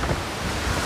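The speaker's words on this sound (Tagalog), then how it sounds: "Mas lalong malakas yung hangin" Strong wind gusting across an exposed hilltop, a loud buffeting rush battering the microphone in a short, continuous burst with no voices.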